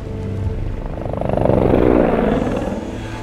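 A Westpac rescue helicopter passes close overhead, its rotor thumping in a rapid steady beat that swells to a peak midway and eases slightly, loud and alone without voices.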